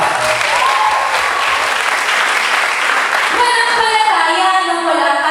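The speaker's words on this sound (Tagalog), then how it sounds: "Salubungin natin sila ng masikapong palakpak." Audience in a hall applauds to welcome the debaters of a Balagtasan verse debate at a school event, steady broadband clapping that shifts near the end as a musical tone and other sounds rise under it.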